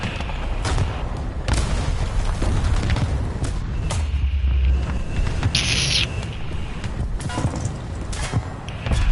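Repeated heavy booms and crashes of tank shells exploding in War Thunder, several loud impacts scattered over a dense noisy battle background, with one sharp ringing burst midway.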